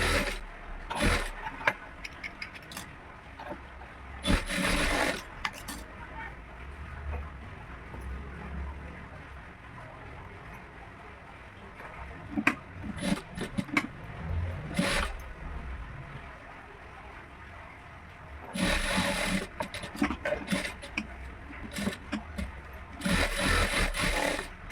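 A sewing machine runs in intermittent bursts while stitching a kaja (buttonhole) strip on the left side of an embroidered blouse, with short pauses between runs and no talk.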